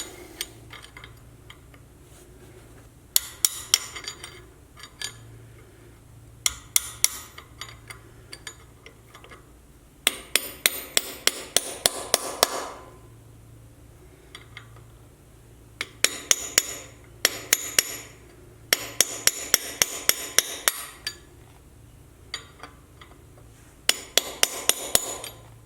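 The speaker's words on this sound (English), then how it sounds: "now I'm going to take this cold chisel and I'm going to push in to this" Bursts of sharp metallic hammer blows drive a cold chisel into a slot on a Dana 60 axle. The strikes come in quick irregular clusters separated by pauses, loud and close over a low background hum.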